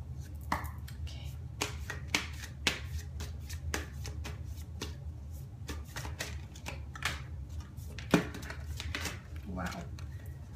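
Oracle cards from The Energy Oracle deck are shuffled in hand, soft riffling and tapping in irregular bursts with sharper snaps, close and quiet, with speech faintly in the background.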